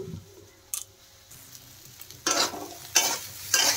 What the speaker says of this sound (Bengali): এদিকে দেখেন সয়াবিনও ভালো করে ভাজা হয়ে গেছে